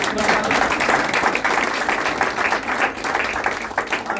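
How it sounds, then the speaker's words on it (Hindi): Audience applause at the close of a live Hindi comedy stage play: a steady, dense wash of clapping from a crowd that holds at an even level for several seconds, fairly close and continuous. "एक बार तालियां आप सभी के लिए।"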